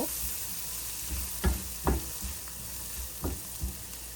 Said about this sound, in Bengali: এই যে পেঁয়াজটাকে আমি একটু হালকা ভেজে নিব।